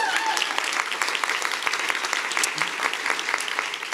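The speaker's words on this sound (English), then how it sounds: "Round of applause." Steady audience applause at a morning speaker event, close clapping from a moderate crowd lasting a few seconds with no voices over it.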